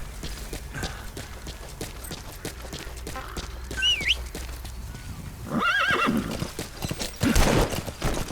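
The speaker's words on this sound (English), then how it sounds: "I've got a ghost horse that just spawns out of nowhere" A ghost horse in Metal Gear Solid V clip-clops steadily on hooves, then lets out loud whinnying neighs partway through and a louder burst near the end, with no talking over it.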